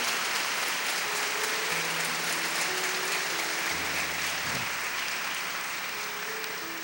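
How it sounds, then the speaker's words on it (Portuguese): Sustained applause from a church congregation at a Catholic preaching event, a dense, even roar of clapping lasting the whole stretch, with faint tones and background hum mixed in and no talk. "Pode aplaudir para valer."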